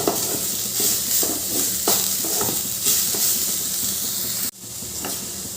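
Radish pieces fry with a spoonful of sugar in a pan while being stirred, producing a close sizzle broken by rhythmic scraping strokes of the spoon; the stirring stops abruptly near the end, leaving a softer hiss.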